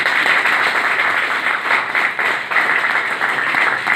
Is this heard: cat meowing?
no